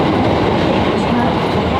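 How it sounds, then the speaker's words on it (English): Inside a moving train in Tokyo, a loud continuous rumble of wheels on rails fills the car, a broad steady roar with light rattling throughout. "This is me on a train."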